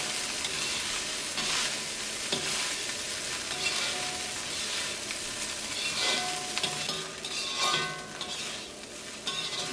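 Chicken fried rice, Chinese style, is stirred and tossed in a frying pan over steady, close sizzling, with scraping strokes rising now and then over the continuous frying hiss.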